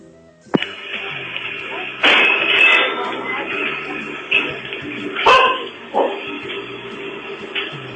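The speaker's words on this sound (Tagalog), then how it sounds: "Galit yung aso niyo." A dog barks loudly several times in sharp bursts, a few yips and whimper-like sounds between them over a background of indoor noise.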